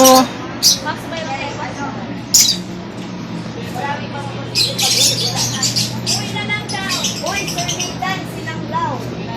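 Lovebirds at a bonsai and plant nursery give sharp, scattered squawks and chirps over a steady low background hum, with people talking throughout.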